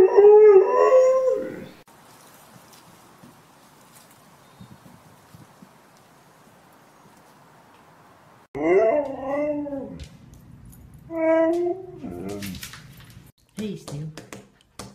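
Huskies let out long, wavering howls in two bursts, one at the start and another later with shorter rising yips, separated by a quiet stretch of low room noise.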